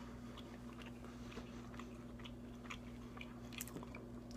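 Crunchy chewing and biting on crispy Jack Links turkey jerky, close up, with a steady run of small crackling bites over a low constant background hum.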